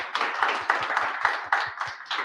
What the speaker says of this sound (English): So I'll give a big round of applause for all of them.